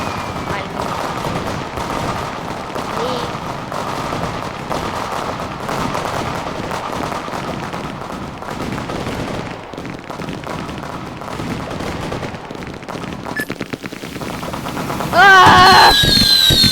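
Fireworks rockets bursting in the game Fireworks Playground, a dense rapid crackle of repeated blasts running throughout, ending in a louder burst with whistling sparkle.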